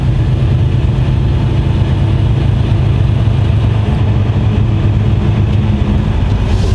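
A farm vehicle's engine drives slowly around a farmyard near cattle, a steady, loud, low rumble running unbroken throughout with no talking.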